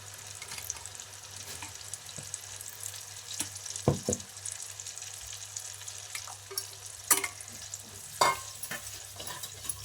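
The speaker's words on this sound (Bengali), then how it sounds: "এই দইটা আমি এখানে ঢেলে দেবো" Beaten yogurt poured into a hot pan over a low flame and stirred into the cooking: a soft steady sizzle with spoon scrapes and a few sharper clinks against the pan, no voices.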